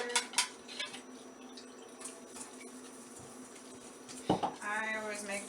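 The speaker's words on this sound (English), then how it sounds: "Mix the batter together" A utensil clinks and scrapes against a bowl as pancake batter is stirred, quiet and close, with a person starting to speak near the end.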